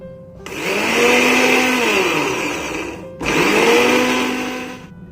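A kitchen blender grinds 1.5 spoons of oats into powder in two loud, whirring bursts, the motor winding up then sagging in pitch before a brief stop and a second run.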